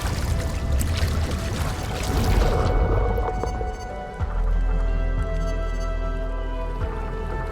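Water drains away in a video game as a mechanism lowers the level: a loud, broad rushing pour that thins out partway through, leaving a low steady gurgle with occasional drips.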